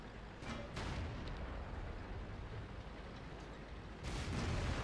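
An IS-6 heavy tank gun fires in World of Tanks, a muffled boom amid steady low rumbling engine and battle noise, with another heavier blast swelling near the end; fairly faint overall.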